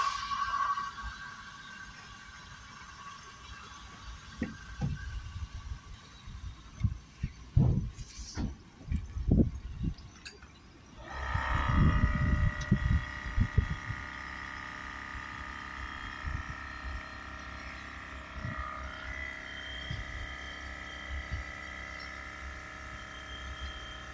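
A battery-powered Milwaukee compressor feeds a pressurized gun shooting cleaning fluid into the blocked diesel particulate filter of a BMW 525d, giving sputtering bursts and then a steady hiss over a running hum.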